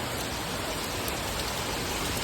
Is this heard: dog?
no